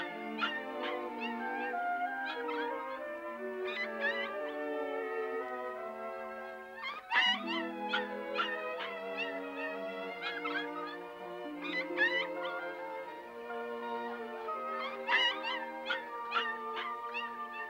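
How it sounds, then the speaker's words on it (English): Newborn puppies in a Lassie cartoon whimpering, yipping and howling in high, overlapping cries that come in repeated bursts over a quiet background, with no speech. "Seven whole puppies."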